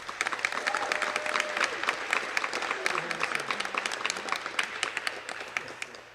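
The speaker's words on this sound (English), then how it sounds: "So please give them an applause" Audience at a high school boys basketball event claps in sustained applause, a crowd of many hands pattering evenly and fairly close, with some voices mixed in.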